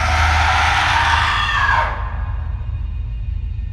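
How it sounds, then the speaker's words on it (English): Eerie scream-like sound effect of spirits in a horror story, a loud wailing wash that sweeps down and cuts off sharply near the two-second mark, leaving a low rumbling drone. "The spirits screamed and were pulled into the light."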